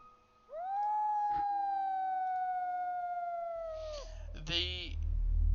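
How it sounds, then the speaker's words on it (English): A long, wavering howl with a rising onset and steady sustained tone, standing in for a werewolf during a tabletop role-playing game, followed by a brief burst of noise and rumble at the end. "The werewolf howls are getting louder"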